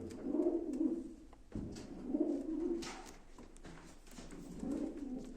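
Pigeons at a live auction coo in three soft, rolling bursts spaced a couple of seconds apart, fairly close and fairly quiet, with faint background clatter between calls and no one speaking.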